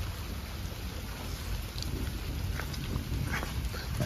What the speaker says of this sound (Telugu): వర్షం పడుతుంది ప్రస్తుతానికి